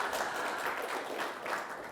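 Continuous audience applause at a Magento conference session in New York, a steady dense patter of many hands at moderate volume throughout.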